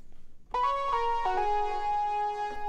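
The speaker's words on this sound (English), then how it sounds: "this is filtering off some of the high end of our delay repeats and reverb tail" A bright synth tone with sustained harmonics shifts between notes, its repeats and reverb tail sounding muffled, with treble rolled off.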